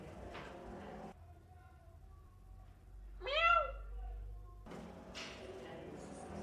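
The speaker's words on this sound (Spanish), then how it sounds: "Es un gato." A single cat meows once, rising then falling, fairly close, between stretches of muffled background noise.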